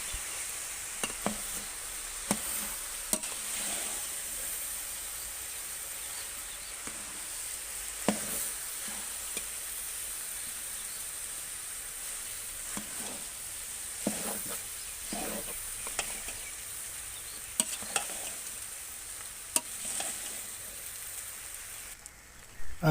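Chicken and vegetable fried rice is stirred in a hot pan, giving a moderate continuous sizzle broken by sharp, irregular clicks and scrapes of the utensil against the pan.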